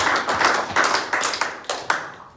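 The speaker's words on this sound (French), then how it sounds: "Est-ce qu'on peut acclamer pour la parole de Dieu?" A church congregation applauds together, a dense wash of many hands clapping near and steady, swelling in short bursts before fading at the end.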